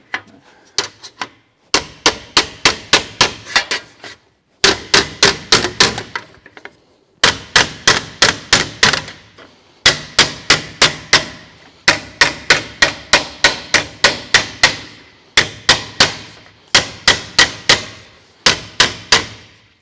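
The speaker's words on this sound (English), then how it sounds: "from here I can start working this edge just with the hammer and I can turn it into the radius shape" A hammer strikes a metal edge, shaping it into a radius for a replacement tubular section of a 1920s convertible top. The sharp, ringing blows fall in rapid close-up bursts, separated by short pauses, with no talking.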